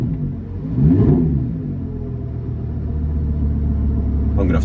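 A modified car engine fitted with a Larini exhaust idles nearby with a deep, steady burbling rumble, and a brief blip swells early on before it settles back to a loud, even idle.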